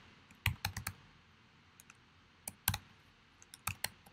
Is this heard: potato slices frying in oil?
no